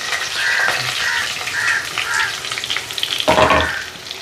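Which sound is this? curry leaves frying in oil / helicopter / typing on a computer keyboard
curry leaves frying in oil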